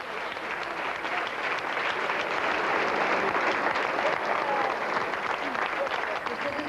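An audience applauds steadily for the arrival of the president's wife, godmother of the 1990 Raid Gauloises adventure race, a dense, even wash of clapping that holds for the whole stretch with no break.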